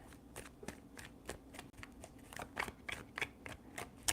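Tarot cards are shuffled by hand, a quiet series of soft, rhythmic riffling flicks repeating about every third of a second, close and faint.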